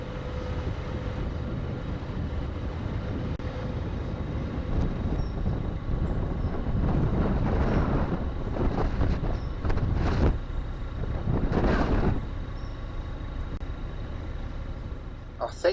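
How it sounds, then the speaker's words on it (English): Strong wind buffets along the Grand Union canal, a rough, low rumbling roar that swells and gusts over several seconds with broad bursts of noise, heard close and continuous throughout. "the wind's so strong it's blowing me all over the place"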